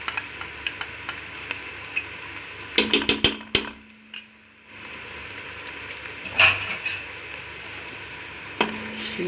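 Spices frying in a pan for an arvi and baingan (taro root and eggplant) curry, a steady sizzle broken by sharp spoon-and-pan clinks and scraping stirs, with a brief quiet gap midway.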